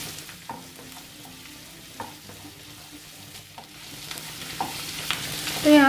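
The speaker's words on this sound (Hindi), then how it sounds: "तो यहाँ पे इसे हमें सॉफ्ट होने तक अच्छे से फ्राई करना है।" Onion, ginger and garlic fry in a pan while being stirred, giving a steady low sizzle with scattered scrapes and clinks of the spoon that grows louder near the end.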